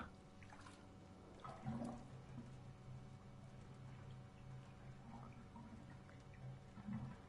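In The Renovator: Origins, a bathtub being unclogged gives a soft, low gurgle of water draining away, with a few quiet swells and trickles and no talk.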